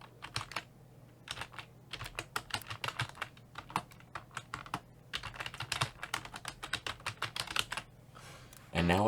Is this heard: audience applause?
no